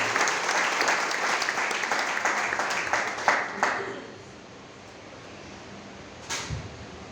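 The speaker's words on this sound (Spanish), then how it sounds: "Fuertes aplausos para Él." A church congregation gives loud applause for several seconds, which thins and fades into quiet room tone, followed by a brief thump near the end.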